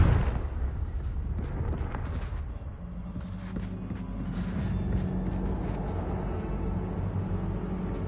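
Confringo blasting spell explosion in a video game, moderately quiet: an opening boom followed by a rumbling tail with scattered crackling bursts and a low lingering drone.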